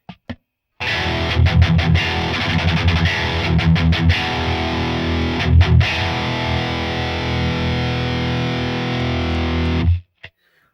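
A distorted electric guitar, an Ibanez Strat-style with pickups wired in series, rings out in thick sustained chords with a few strummed accents, then cuts off abruptly near the end.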